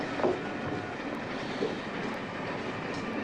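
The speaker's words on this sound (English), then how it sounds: "It's always the bloody train from Moscow that makes it." A train from Moscow passes behind a house, heard indoors as a steady, muffled low rumble with faint rhythmic rail clatter, continuous and moderately distant.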